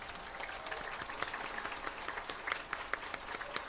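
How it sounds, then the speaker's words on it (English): Applause and clapping from an audience at an elementary school fifth-grade celebration, a steady patter of many hands with brighter individual claps standing out, moderately distant and continuous throughout. "Give them a round of applause."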